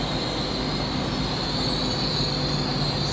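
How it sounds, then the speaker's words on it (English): A 10-coach IET train, number 802002, arrives at Exeter St Davids station with a steady, loud rail rumble and a constant high wheel squeal, with no voices over it. "Here's the other IET coming in as well."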